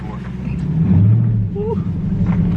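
A BMW F82 M4 with a catless downpipe rumbles close by, a deep, throaty exhaust drone that swells briefly as the revs climb, then settles; voices talk faintly in the background.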